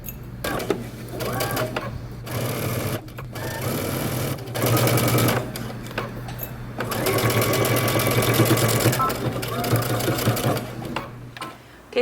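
A sewing machine stitches a bomber jacket seam in several bursts of rapid mechanical whirring, stopping and restarting with short pauses between runs, close and clear.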